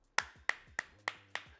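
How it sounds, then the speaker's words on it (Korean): Five sharp hand claps in an even, slow rhythm, close and clear in a quiet room. "박수 한 번만 주세요."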